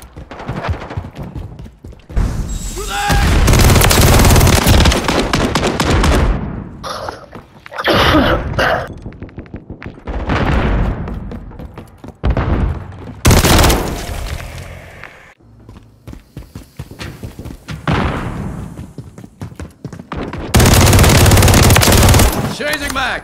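Bursts of WSP Swarm submachine gun fire in Call of Duty MW3 Team Deathmatch on the Breenbergh Hotel map, loud rapid volleys separated by quieter gaps with other game sounds.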